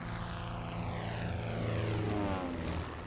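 A propeller-driven airplane drones steadily overhead, loud and sustained, its engine tone shifting slightly in pitch as it passes, with no voices.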